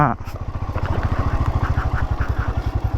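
A motorcycle heading up a hill in a forest area: a loud, close single-cylinder engine thumping in a fast, steady rhythm, rising slightly as it pulls, with a voice briefly over it.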